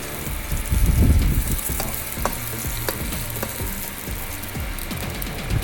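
An egg omelette fries in a pan with a continuous, close sizzle, broken by scattered clicking and scraping taps from the pan.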